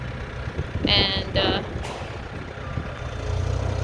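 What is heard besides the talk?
telehandler engine and reversing beeps unloading wood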